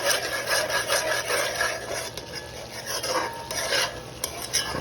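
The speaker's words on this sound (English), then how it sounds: "just keep mixing." Curry with chicken feet is stirred steadily in a pot, a dense continuous scraping and bubbling sizzle that runs close and loud throughout without any talk.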